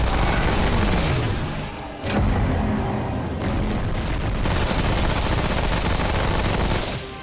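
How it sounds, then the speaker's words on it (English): Sustained rapid gunfire in the video game Remnant: From the Ashes during a final boss fight, a dense continuous rattle of shots with a brief break near the two-second mark, loud throughout. "Wanted to shoot a little bit faster."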